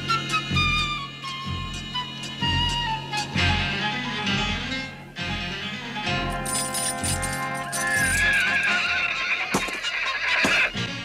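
A horse neighs and whinnies repeatedly, loud and close, with clip-clop hoof sounds and light jingling of tack mixed in over about eleven seconds.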